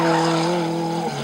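A mid-engined, turbocharged Renault 5 Turbo rally car skids its tires while its engine holds a steady droning note, close and loud, fading slightly at the end.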